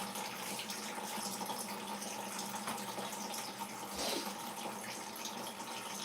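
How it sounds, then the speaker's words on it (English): Water runs steadily from a tap for a quick rinse during apple chopping and mulching for cider, a continuous splashing hiss with a brief louder gush midway and no speech. "Quick rinse"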